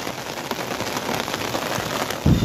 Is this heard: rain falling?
yes